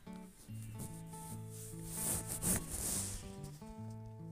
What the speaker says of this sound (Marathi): शेंगदाणे आहेत ते खमंग भाजून घ्यायचे आहेत